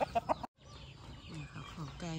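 Young laying hens in a flock of about 150 cluck in short bursts at feeding time, a run of close calls, a brief silence, then steady low clucking with a sharper call near the end.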